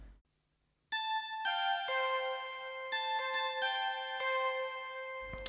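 A synth bell melody from the internal J-Pop patch on a Yamaha XS7 rings in bright, sustained chiming notes after a brief silence. It plays alone with no voices, moving through a clear stepwise tune.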